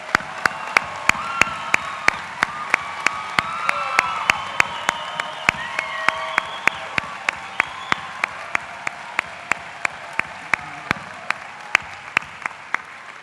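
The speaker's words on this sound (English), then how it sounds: "Please give them a round of applause." Applause fills a coliseum for the Health and Human Sciences graduates at a commencement ceremony. The crowd's clapping is steady and moderately loud, with one sharp, close clap repeating at a regular beat and light cheering underneath.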